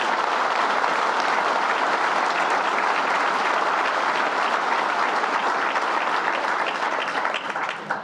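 A luncheon audience applauds loudly and continuously, dense clapping from a large crowd sustained throughout before tapering slightly at the very end.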